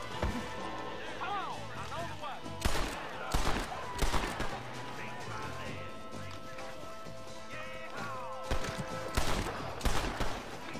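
Gunshots in the western game Red Dead Redemption during a canyon shootout: several sharp, loud reports in two clusters, early and late, over a steady background with talk mixed in.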